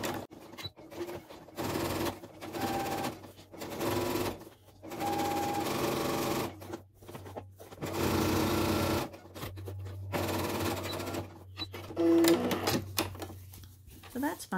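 Sewing machine topstitching along the edge of fabric, running in several bursts of steady mechanical whirring and stopping between them, with a person talking over much of it.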